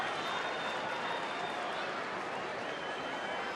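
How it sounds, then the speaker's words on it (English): Crowd applause at a baseball game in a stadium, a steady wash of distant, moderate clapping sustained throughout with crowd murmur. "Very polite applause as Brad was introduced."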